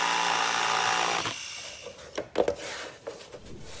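A jigsaw cuts through a wooden piece with a loud, steady buzzing whine for about a second, then stops, leaving scattered soft knocks and rubbing as the wood is handled.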